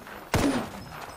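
A single loud gunshot from the Apex Legends video game cracks sharply and then rings out briefly over a low background.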